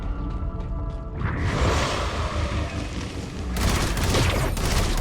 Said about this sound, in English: Oh, I guess that was a little explosion, was it?